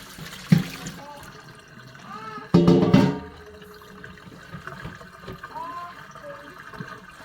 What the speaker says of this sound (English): then you just pour the water out